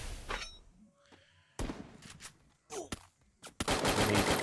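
Gunfire in a battle royale video game: a few separate loud bursts of shots with gaps between them, ending in a sustained louder burst, with no one speaking.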